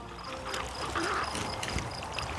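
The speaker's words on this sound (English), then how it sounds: "you can hear the water running through" Water running through an irrigation sub line pipe feeding drip irrigation in a field, a soft continuous rushing and trickling, faint and steady with no talking.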